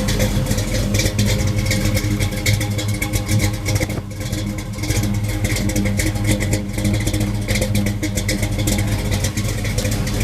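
A Camaro engine runs inside a garage, producing a loud, steady, close rumble with a brief dip partway through. No one speaks.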